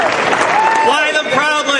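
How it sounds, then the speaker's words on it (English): An audience gives a round of applause at a public rally: broad clapping runs the whole time while a voice speaks over it. "Folks, give her a big round of applause."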